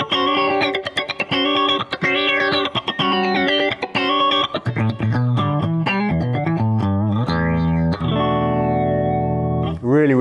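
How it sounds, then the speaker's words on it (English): Electric guitar through an Eventide H9 MAX pedal on a funk echo preset, first choppy rhythmic chords with repeating echoes, then fuller strummed chords ringing out with sustained delay trails, loud and alone. "Let's go for funk echo. Oh, really subtle. Oh, not so subtle when you start strumming."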